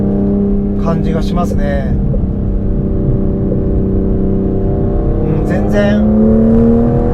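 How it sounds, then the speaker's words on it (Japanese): A 2025 Aston Martin Vanquish V12 drones steadily from inside the cabin on a winding road with its exhaust valves open, rising slightly in the last seconds, while someone talks briefly over it. "エキゾーストもねバルブさらに開いた"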